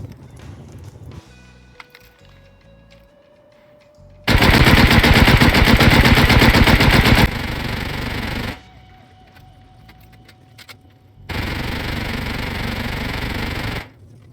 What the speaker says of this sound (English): dumped 180 odd bullets into the wall